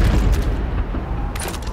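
Rifle shots ring out on a shooting range in the Call of Duty 2 video game, a loud booming report up front followed by a second sharp crack near the end, with no talking.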